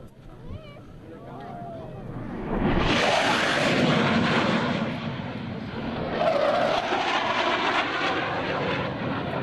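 US Navy Blue Angels jets in formation thunder past at an airshow, a loud broad roar swelling in and holding, then surging again as they pass, with announcer speech over it.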